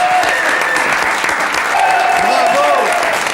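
A studio audience at a French television casting show applauds loudly and steadily, dense clapping filling the whole stretch with faint tones and cheering mixed in.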